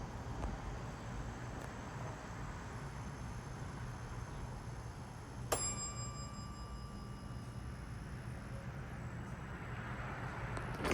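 A single bright ding from the bell of a Dover traditional hydraulic elevator in an office building rings out once midway, with a lingering ringing tail over a steady low background rumble.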